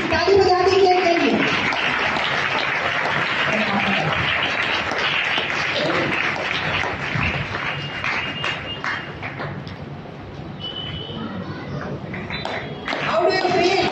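Steady applause from a church congregation at Full Gospel Church in Bhilai, many hands clapping together loud and near, easing slightly midway and then picking up again, with a voice speaking briefly at the start.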